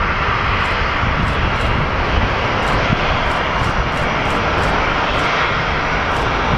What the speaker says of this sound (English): It's a Boeing 767.